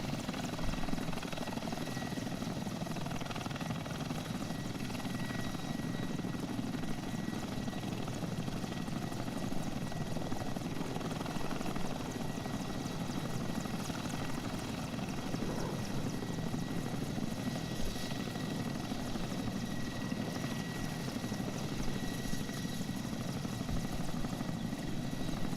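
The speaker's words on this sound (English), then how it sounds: "Now I'll just slow down and land in the helicopter slot." A Hind helicopter lands at RAF Church Fenton in the Prepar3D flight simulator, its rotor and engine giving a steady, even drone that holds without a break throughout.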